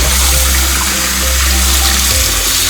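Running tap water pours hard and steady while potatoes are rubbed and washed underneath, a loud, continuous rushing close by with no talking.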